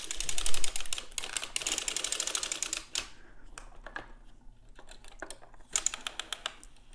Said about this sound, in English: We're cranking counterclockwise.